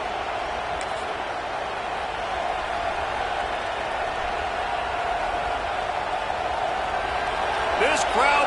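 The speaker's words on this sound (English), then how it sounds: "crowd bringing the energy and noise early." Steady stadium crowd roar from a college football video game, a broad continuous wash of massed voices that swells slightly near the end, with commentary speech faintly present.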